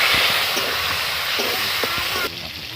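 Chopped tomatoes drop into hot oil with dry red chilli, cardamom, cinnamon and bay leaf, giving a loud, continuous hiss with a few clinks of a spoon against the pan, then the sizzle settles slightly.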